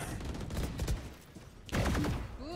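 Gunfire in the tactical shooter Valorant during a college esports match: a rapid burst of sharp shots, a brief lull, then a louder volley of cracks close by, with bright ringing game effects trailing off at the end.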